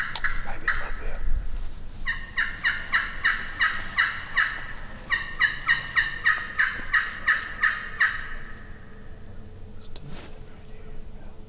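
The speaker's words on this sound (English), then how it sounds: "We set up on those turkeys on the roost" Wild turkeys gobble from their roost in the woods in rapid, rattling bursts that repeat through the stretch. The calls are moderately distant and sound against a quiet outdoor background.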